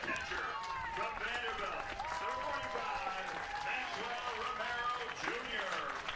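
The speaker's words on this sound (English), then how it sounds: "The loudest applause we've heard on a walk-up introduction, I think so far this season." Ballpark crowd applauding steadily at a summer collegiate baseball game as a batter walks up to the plate, a dense wash of claps with voices and musical tones mixed in, sustained for several seconds.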